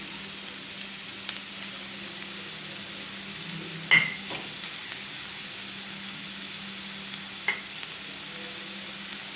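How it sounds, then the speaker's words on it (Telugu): Sliced onions with salt sauté in a pan for chicken curry, giving a soft continuous sizzle with a low hum beneath and a couple of sharp clinks from a utensil, no talking. "ఈ ఉల్లిపాయ ముక్కలు మగ్గడానికి కొంచెం సాల్ట్ యాడ్ చేస్తే మనకి ఇది త్వరగా మగ్గుతుంది"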